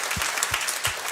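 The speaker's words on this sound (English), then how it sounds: "You can absolutely clap for that." An audience applauding, a brief dense burst of clapping that fills the short moment with steady hand claps.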